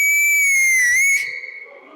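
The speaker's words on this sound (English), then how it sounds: "I whistled." A person whistles loudly and steadily to stop an auto rickshaw on the street, one long rich whistle that bends slightly before cutting off, leaving faint street noise behind.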